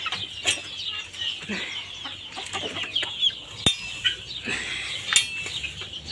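Chickens on a small poultry farm, where the hens are laying eggs, cluck softly and intermittently. Scattered faint clucks and a few light clinks sit over a quiet background, with no one talking.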